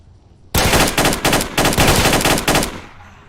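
Rapid bursts of AK rifle fire in the S.T.A.L.K.E.R.: Shadow of Chernobyl video game, a loud automatic volley of several close, sharp bursts lasting about two seconds and then cutting off.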